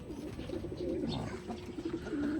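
Racing pigeons coo steadily inside a loft, several birds making low, rolling calls that overlap close by, with no talk over them.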